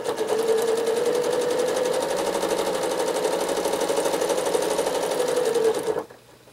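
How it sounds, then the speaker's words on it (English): A sewing machine hums steadily while free-motion quilting a tiny spiral on sashing, running loud and close without pause for about six seconds before stopping abruptly. "I'm going to quilt a really tiny one right here"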